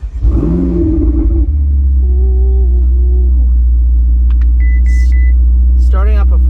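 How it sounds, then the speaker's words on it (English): A Ferrari 488 engine fires up with a loud, deep rumble that settles into a steady idle, recorded close; someone talks over it, and a few short beeps sound near the end. "Starting up a Ferrari 488, the sound just never gets old."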